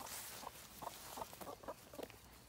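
Chickens in a backyard garden cluck softly in short, scattered calls close by, quiet against a faint outdoor background.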